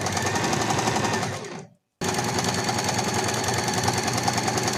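A sewing machine stitches a collar onto a long gown with a fast, steady mechanical chatter close by. It stops abruptly for a brief moment, then resumes at the same even pace, with no voices.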